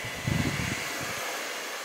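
A hair dryer blows steady air across wet paint on a canvas, a continuous close whoosh that holds evenly throughout.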